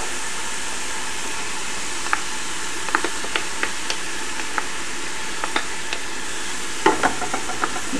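Garlic sizzling in a pan with translucent onions for a Peruvian-style kaniwa, quinoa and amaranth pilaf, a steady close frying hiss dotted with light clicks from stirring.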